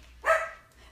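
A single dog gives one short, fairly loud bark at close range indoors, with a cat nearby, the bark fading quickly into quiet room tone.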